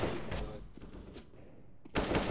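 Gunfire in CS:GO from a Desert Eagle pistol, several sharp close shots with a strong final crack, with a faint voice in the background.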